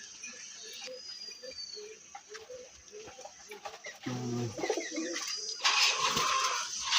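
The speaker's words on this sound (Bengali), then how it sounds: "খুব সুন্দর একটা কবুতর।" Pigeons coo in repeated soft, low calls at a rooftop loft, a few rounds close by, with faint rustling and clattering and a louder bout of bird noise toward the end.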